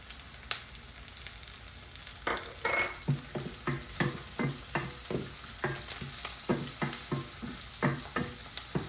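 Sesame seeds crackle and sizzle in hot oil for a Gujarati aloo poha, with rapid irregular pops and spatters over a steady frying hiss, close to the pan.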